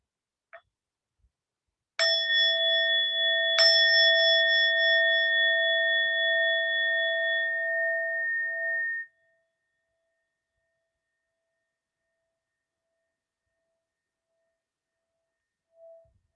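A meditation bell is struck twice in a quiet room, the second strike landing while the first still rings, both tones sustaining clearly for several seconds before fading into silence, with no talk over them.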